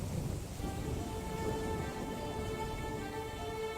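Steady rain falls outside a house, a faint, even wash of dense patter that continues unbroken, with a soft tonal background underneath.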